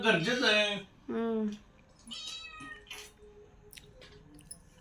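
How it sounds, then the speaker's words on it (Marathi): A cat meows loudly twice in quick succession, close by, followed by quieter faint meows and small clicking sounds. "ही सगळी मांजरच चार मांजर आहेत वस्तीवर"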